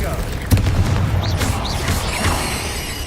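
Spell blasts and whooshing magic effects from Hogwarts Legacy combat with the Confringo spell, a sharp boom near the start followed by swooping tonal sweeps and rumbling impacts, all under busy game noise.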